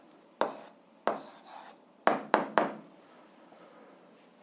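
An algebra answer is written out by hand in a few short, scratchy strokes and taps that come in quick bursts, close and with no talk.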